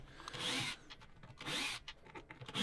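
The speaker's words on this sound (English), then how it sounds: "So I'm just going to open this out with my little Bosch" A small Bosch MX2 cordless screwdriver backs out screws from the old accelerator pedal of a 2007 Renault Laguna II, whirring in three short close bursts with brief pauses between them.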